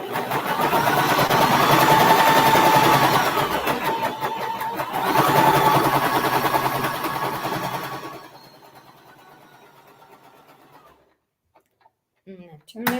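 A sewing machine stitches a scant quarter-inch quilting seam in a steady, fast mechanical whir for about eight seconds, then drops to a faint hum and stops, followed by a few light handling clicks.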